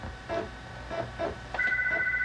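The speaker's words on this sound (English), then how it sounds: "Oh, the phone's ringing." A telephone rings in short repeated bursts, several chirping pulses at an even pace followed by a steadier electronic tone, heard in a quiet indoor room near a retro SAM Coupé computer setup.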